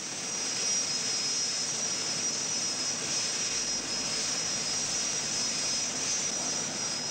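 An aircraft, most likely a helicopter flying out to a North Sea oil platform in the Brent field, gives a loud, unbroken engine drone heard from inside the cabin throughout.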